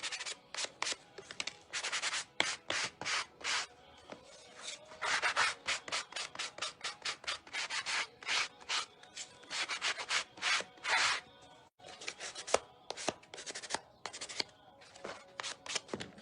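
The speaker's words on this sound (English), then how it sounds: "I'm just going to sand the edges and the corners to make it look a little more worn" A napkin-decoupaged craft piece is sanded along its edges and corners, giving repeated short scratchy rubbing strokes in quick bursts with brief pauses, close and steady, without speech.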